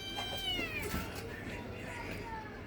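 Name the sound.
cat meowing from below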